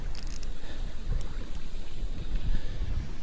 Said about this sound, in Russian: Ветер не ослабевает